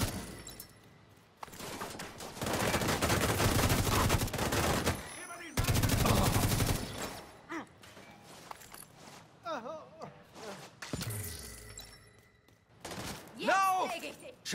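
Dense bursts of automatic gunfire rattle in The Division 2, with a long sustained volley, a brief gap and a second barrage, followed by sparser shots and game voice lines.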